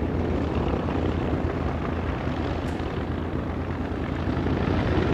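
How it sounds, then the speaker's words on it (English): Steady, loud propeller engine drone of a B-25 Mitchell bomber, continuous throughout as the plane taxis down the runway, with no voices. "As they make their way down the runway, the last plane to leave"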